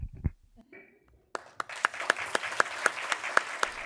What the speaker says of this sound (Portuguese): A plateia recebe o convidado com uma salva de palmas.